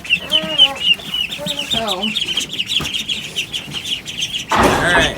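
Two-week-old Khaki Campbell ducklings peep in rapid, high chirps, close and loud, with a voice speaking briefly and a rustling burst near the end.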